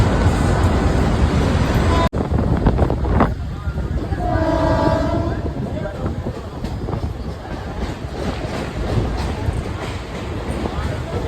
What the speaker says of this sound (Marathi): त्या आयला तिकडची ट्रेन येते